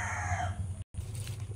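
A rooster crows at a gamefowl farm where yellow-legged, straight-combed males are kept. The call is loud and close for most of the stretch, breaks off briefly, and is followed by lower rustling and background farm noise.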